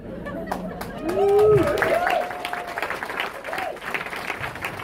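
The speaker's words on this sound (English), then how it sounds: "I like the clapping" A comedy club audience claps and cheers in a brief swell of applause mixed with crowd chatter, close and fairly loud, with a voice speaking over it.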